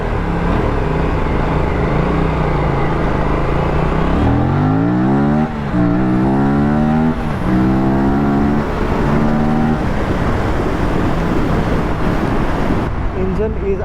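Aprilia RS457 motorcycle engine revving hard through gears while riding, loud and close, pitch climbing in rising sweeps with brief dips at shifts, then settling into a steady drone near the end.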